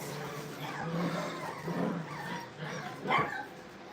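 Several small dogs yip and whine in short, excited bursts, fairly close, with a sharper yap near the end.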